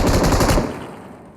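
Shotgun fire in the battle royale game BGMI on the Erangel map: a burst of loud, close, rapid blasts in the first half second, then a fading tail, with no talk.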